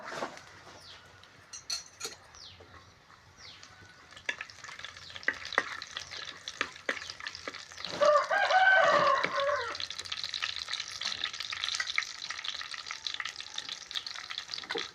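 Garlic fries in a pan for a pappu chukkakura dish, making a soft, steady sizzle with repeated stirring scrapes and clinks, plus a brief louder burst midway, close up and with no talking.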